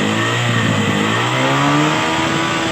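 A motorcycle engine revs steadily without cutting out, loud and close, its pitch climbing and holding in one continuous drone.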